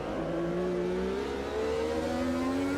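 A 1983 Formula One race car engine in the Automobilista 2 sim racing game at the Canada circuit howls loudly and steadily, its pitch climbing smoothly as the car accelerates hard out of the final corner.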